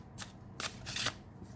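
An Alice Tarot deck being shuffled, giving three quick riffling bursts of card noise with short pauses between them, close and fairly quiet, with no voices.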